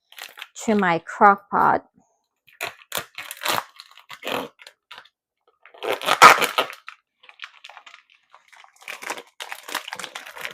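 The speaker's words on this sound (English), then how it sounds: "So I'm gonna open this package" A plastic package of ham is opened with crinkling, tearing and crunching sounds in short, close bursts, interspersed with speech.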